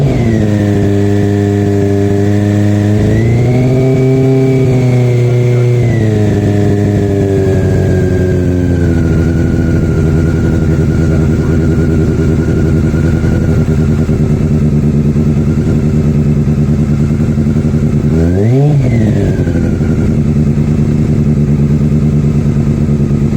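A Honda CB400 Super Four motorcycle, cold after sitting several days, starts and revs steadily, its four-cylinder engine rising and falling through a few throttle blips before settling into a loud, close idle, with one sharp rev near the end.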